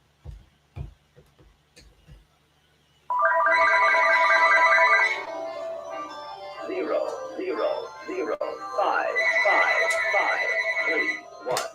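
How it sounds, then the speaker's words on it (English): A loud Uniden telephone ringer sounds as an extension is called. A few clicks come first, then a bright, insistent electronic trill in long repeated bursts, close and dominant, with a short gap between bursts. "we really have a loud Uniden ringer"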